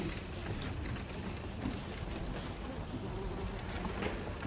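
A fly buzzes steadily and fairly close throughout a live stage performance of La Fontaine's fable of the coach and the fly, a continuous droning whine with faint background noise and no talk.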